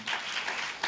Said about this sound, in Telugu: చప్పట్లు కొట్టండి బిగ్గరగా.